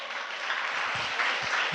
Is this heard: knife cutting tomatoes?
no